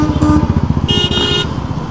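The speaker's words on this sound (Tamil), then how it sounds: "எங்கங்க இவ்வளோ டிராஃபிக்காக இருக்குங்க இந்த சேலம்" On a busy Salem road, a motorcycle engine throbs nearby in rapid, loud pulses while vehicle horns honk briefly, first a short toot and then a longer blast.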